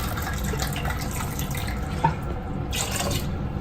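Water pours steadily into soaked mixed lentils for a nine-lentil dal, a continuous close splashing with one small splash near the middle.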